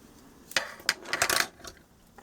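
Felt ink pad rubbed across a rubber stamp, heard as a few short, scratchy scuffs in quick succession, close and fairly quiet, with no talking.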